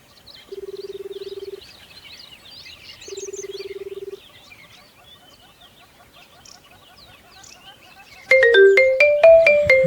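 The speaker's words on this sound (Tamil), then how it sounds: "என்ன தரணி ஃபோன் பண்ணுறான்" A mobile phone ringtone for an incoming call sounds in two bursts, each about a second long, over faint outdoor birdsong and rustling. Louder tonal music then takes over.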